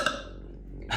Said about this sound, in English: I'm just going, basically, while I'm burping.